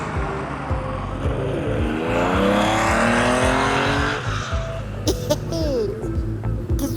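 Historic rally cars, including an Opel Kadett GTE and a Porsche, race past on a Tour de Corse stage, engines rising and falling with gear changes and revs close by, and a few voices talk over them.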